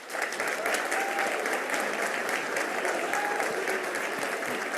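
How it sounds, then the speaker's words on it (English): Sustained audience applause at a green schools celebration honoring John Thomas School of Discovery in Nixa, Missouri, a steady dense clatter of many hands clapping throughout, with no voices over it. "Please join me in applauding our first school, John Thomas School of Discovery in Nixa"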